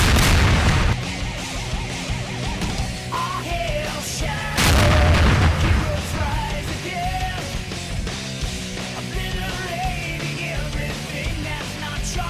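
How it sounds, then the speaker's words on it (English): Robots fire on Shadow at a base perimeter in Sonic 06, booming blasts and shots scattered under a busy game score, with one heavy burst midway and a loud hit at the start. "Robots shoot at him after Shadow jumps into the base perimeter."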